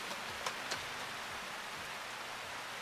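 Rain falling in a Tagalog-dubbed cartoon, a steady, soft hiss of rainfall with a couple of faint drop ticks near the start.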